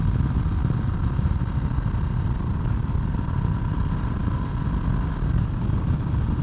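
A 2018 Harley-Davidson Sport Glide with a Milwaukee-Eight engine drones steadily and loudly throughout, mixed with a continuous rush of wind from riding, with no talking.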